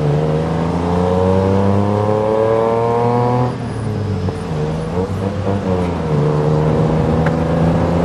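A turbocharged tuk-tuk engine revs loudly and steadily through a fast street ride in Thailand, its harmonic drone climbing in pitch and then dropping and rising again near the microphone, with no talk over it.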